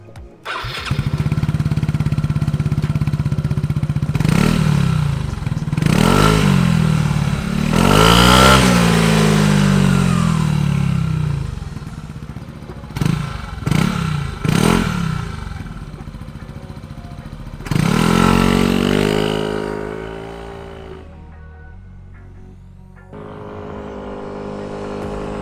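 A Force 155 scooter fitted with an aftermarket exhaust pipe and a tuned engine computer revs repeatedly from idle, with several sharp throttle blips and longer climbing revs, loud and close, with no talking.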